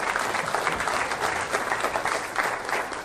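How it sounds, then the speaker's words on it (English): An audience at a keynote talk gives a round of applause for a guest on stage, steady dense clapping that holds at an even level for a few seconds with a faint murmur of the crowd beneath. "give Rachel another round of applause"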